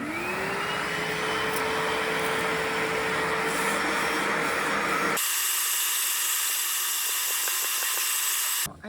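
A corded Little Green Machine portable carpet cleaner runs with a steady motor whine and a rising pitch at start-up, then switches to a harsher, hissing suction roar for several seconds before cutting off at the end.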